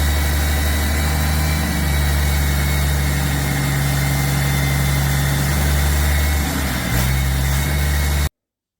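A rebuilt Caterpillar 3406B diesel engine runs at a steady idle with a deep, continuous drone and a loud, even rumble close by, with no talking.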